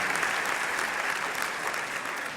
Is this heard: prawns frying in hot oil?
no